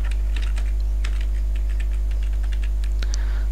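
Computer keyboard keys tapped while a password is entered, setting up a remote desktop on an Azure server; a quick, irregular run of light clicks over a steady low electrical hum, with no talking.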